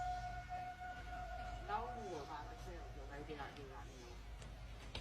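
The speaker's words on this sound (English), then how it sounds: "hears disturbing howling noises out in the woods" Eerie wavering howls drift from deep in Appalachian woods at night, faint and distant over a steady hum, rising and falling in several overlapping calls.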